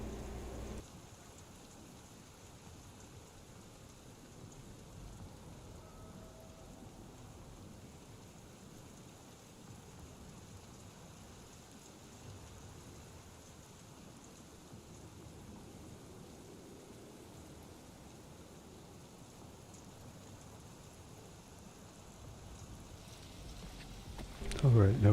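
Steady, soft rain falling in a video game, a faint continuous hiss with low rumbling, quiet and even throughout, with a brief louder burst at the very end.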